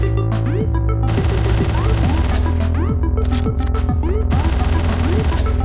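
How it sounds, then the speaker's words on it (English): Assault rifle gunfire in the video game Hotline Miami, dense rapid bursts of shots over pounding synth music that stays loud throughout. "we'll finish them off with an assault rifle"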